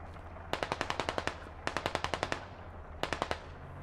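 Rifle fire in the tactical shooter game Squad: three rapid bursts of sharp, loud automatic shots, each about six to eight rounds long, separated by short pauses over a low background hum.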